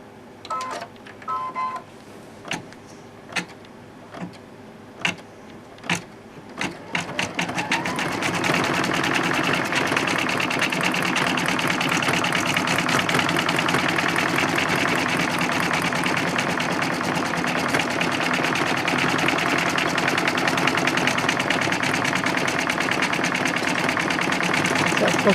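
Sewing machine stitching a satin stitch, a few isolated clicks and thumps at first, then a steady rapid mechanical whir running loud and close for the rest.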